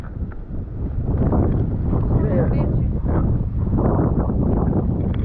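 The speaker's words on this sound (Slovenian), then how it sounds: "zunaj malo piha, so malo valovi" Wind buffeting a microphone outside on a sailboat among Tahanea and Fakarava in the Tuamotus, a continuous, loud rushing roar with gusty low-end swells and a faint chirping detail partway through.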